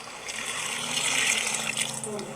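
Water pours steadily into a pan of sautéed chicken with masala, a soft continuous splashing that builds slightly and then eases, close and fairly quiet.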